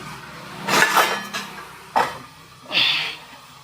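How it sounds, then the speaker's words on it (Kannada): Three metallic strikes on a bronze vessel, each ringing briefly with a bright, resonant tone, spaced about a second apart and close by. "ಅವಾಗ ನೀವು ಆ ಪಾತ್ರೆಗೆ ಹೊಡೆದಾಗ ಅದ್ರಲ್ಲಿ ವೈಬ್ರೇಷನ್ಸ್ ಕ್ರಿಯೇಟ್ ಆಗುತ್ತೆ"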